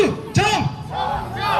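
At a street protest rally in Gwangbokdong, Busan, a crowd bellows a single chanted word in answer to a speaker's cue, a brief loud mass shout followed by ongoing crowd noise and a voice over loudspeakers.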